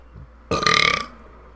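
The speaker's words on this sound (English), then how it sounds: "I do burp a lot" A single loud, close burp rolls out for about half a second, with a rough, rattling texture, inside the video game GTA Vice City.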